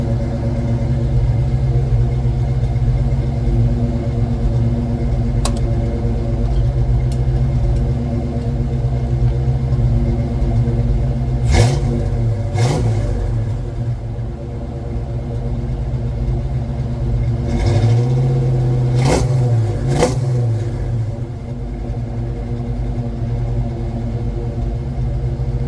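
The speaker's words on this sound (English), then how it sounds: "I'm gonna let it warm up for a couple minutes, and then I'll give you guys a couple little revs" A 1986 Ford Mustang GT with new mufflers, tailpipes and exhaust idles with a steady low burble, then gets two separate pairs of short revs that swell and fall back to idle.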